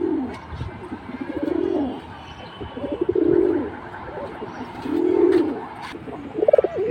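A pair of high-flying pigeons coos in repeated rolling phrases, close and clear, with faint chirps and background noise around them.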